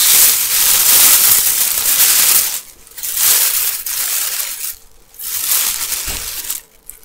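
Paper from a box of Christmas ornaments is crinkled and crushed up close, a loud, steady crackling rustle that pauses briefly a few times.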